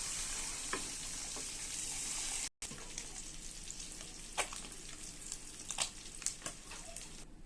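Eggs with a pinch of turmeric frying in a pan, stirred with a spatula: a soft steady sizzle, a brief dropout, then scattered scraping clicks over the hiss, fairly faint.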